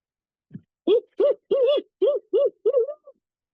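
Seven rhythmic hooting notes, an imitation of a barred owl call, the middle ones rising and falling, clear and isolated against silence.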